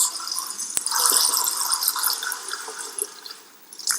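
Liquid rendered tallow for soap making pours into a pot with a continuous splashing, gurgling rush, close and fairly loud, broken by a single sharp click near the start.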